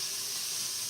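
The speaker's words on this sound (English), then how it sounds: "Alright, the garlic and onion is doing really well." Garlic and onion sauté in a pan on a home stove while chicken noodle soup is being made, giving a steady, close, even sizzle with a bright hiss and no talking.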